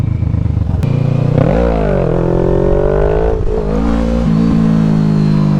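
A motorcycle engine revs under changing throttle, loud and close, its pitch climbing and dipping in uneven surges over a steady growl, with a sharp click near the start.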